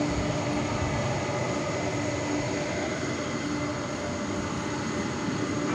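An American Eagle Embraer 175 airliner departs DFW Airport, a loud, steady jet roar with a low rumble and a constant tonal hum, holding level throughout.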